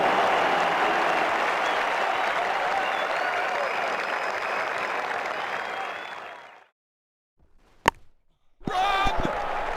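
A cricket crowd at an India v Australia Test match applauds and cheers a six, sustained loud clapping and roar that fades to near silence, followed by a sharp knock and renewed stadium noise.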